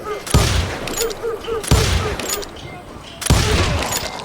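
Gunfire in the Western shooter Call of Juarez Gunslinger: three loud, sharp shots spaced about 1.5 seconds apart, each with a long rolling echo, over a busy background with faint voices.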